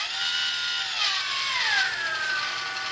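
A small electric motor spins a propeller that is epoxied on, giving a close, steady high whine that sweeps slowly in pitch as the speed eases down, with no talking.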